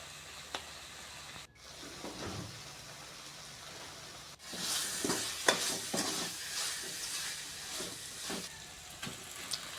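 Ginger garlic paste, chili powder and garam masala frying for a Tamil chicken curry: a quiet hiss that swells into a louder crackling sizzle about halfway through, with repeated stirring scrapes and no voices.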